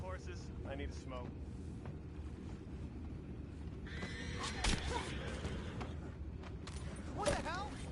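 Horses whinny and neigh in a western video game, short high calls rising over a constant low rumble and background noise, one louder neigh near the end.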